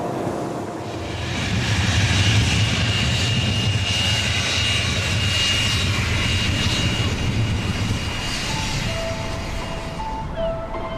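A small private airplane engine drones steadily in flight, loud and continuous, swelling early and then holding a constant tone for the whole stretch, with no talking.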